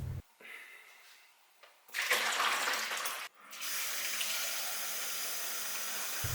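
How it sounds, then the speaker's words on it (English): Water from a Brita filter jug with a Maxtra cartridge is tipped out into a sink, giving a loud splashing pour. A steadier rushing flow follows, with no talk. "Tip the water again."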